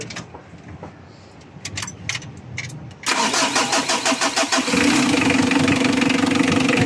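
A Mitsubishi L300 FB van engine cranks and catches at about three seconds, then settles into a loud, steady mechanical running sound close by, with faint clinks beforehand.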